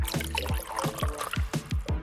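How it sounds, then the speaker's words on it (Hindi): One cup of water is poured into a honey mixture in a bowl, giving close, rhythmic gurgling plops at a steady, quick pace, with no talking. "अब इसमें 1 कप पानी डालेंगे"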